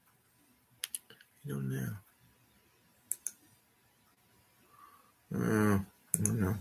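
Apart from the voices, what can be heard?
typing on a computer keyboard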